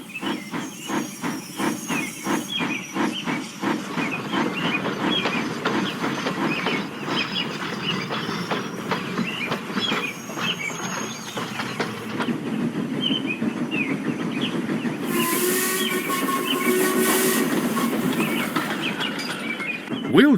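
A steam train runs steadily with a loud continuous hiss and rhythmic chuffing throughout, the hiss swelling strongly near the end.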